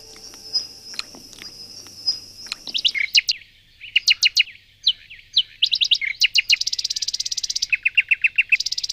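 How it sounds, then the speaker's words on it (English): A nightingale singing: rapid, varied phrases of sharp chirps, whistles and fast rattling trills, clear and fairly close, with a steady background insect drone under the song. "If you look at the song of a nightingale, it's enormously complex."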